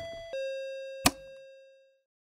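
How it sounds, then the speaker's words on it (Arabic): A video game house doorbell chimes twice, a clear ding-dong with a sustained, slowly fading ring and a soft knock-like thud partway through, heard alone. "في حد طق الجرس حق البيت"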